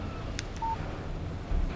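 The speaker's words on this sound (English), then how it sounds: "Text message from Barry" A phone text message alert in the video game Alan Wake, a couple of quick electronic blips followed by a short pure tone over a quiet hiss.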